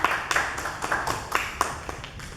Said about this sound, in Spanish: Fuertes aplausos para la compañera de Tirucán.